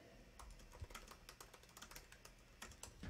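Rapid typing on a computer keyboard, a steady patter of crisp key clicks close up and fairly quiet, with no one speaking.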